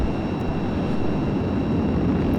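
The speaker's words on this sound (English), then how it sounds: "Now we got the scramjet running full power." Darkstar hypersonic aircraft in a video game with its scramjet engines at full power, a steady, dense roaring drone that holds evenly throughout with no talking.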